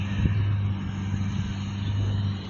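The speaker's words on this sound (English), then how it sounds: "it's a big bus" A large bus driving past on a ranch road, a short low engine drone with a steady hum, moderately faint and alone.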